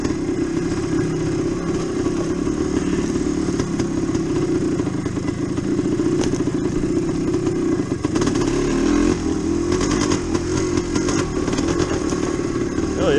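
Engine of a DT360 dirt bike ridden through the woods with a flat rear tire, a steady loud two-stroke drone that rises and falls as throttle changes, close and continuous throughout.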